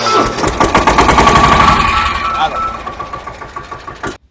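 A farm tractor engine chugs loudly with a fast, regular thumping beat as the tractor is driven, the pulsing gradually easing and softening toward the end.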